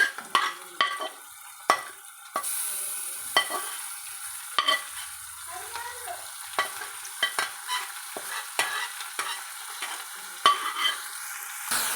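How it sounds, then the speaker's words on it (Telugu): Spoon scraping and stirring through gongura and red chilli chutney with onions in a pan, with a soft steady sizzle under a string of sharp, irregular clinks and scrapes. No voices. "చూడండి ఈ విధంగా మొత్తాన్ని ఒకసారి కలుపుకోవాలి"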